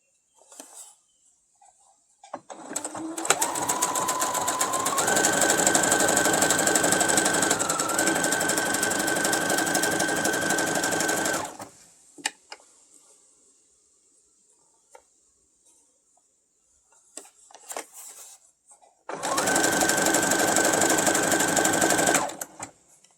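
A domestic sewing machine set to a wider stitch width runs in two loud, steady bursts, a long continuous whir with a shifting motor pitch, separated by a quiet pause with faint handling noises.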